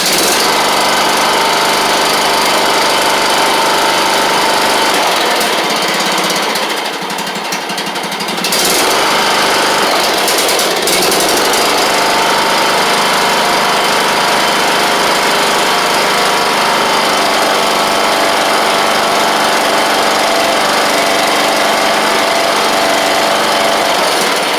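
A John Deere L100 lawn tractor engine runs loud and steady close by, a constant mechanical roar with a brief dip and surge partway through, alone with no voices.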